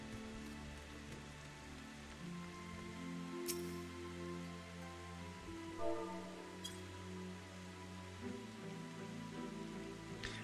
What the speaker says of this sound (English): I love the rain, even if it's just in video games.